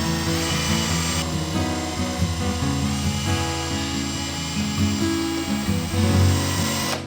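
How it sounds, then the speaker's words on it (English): A power drill with a mixing attachment churns thick homemade laundry soap gel, a loud continuous motor whine that wavers in pitch as the load changes, with no talking. "That only took, you know, a minute of stirring it really well."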